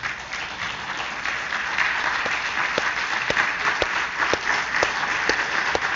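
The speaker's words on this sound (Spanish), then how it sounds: "Pónganse de pie y démosle un fuerte aplauso a nuestro Dios." Applause during a church service, a congregation clapping steadily and fairly loudly for several seconds, with sharper individual claps standing out in the wash.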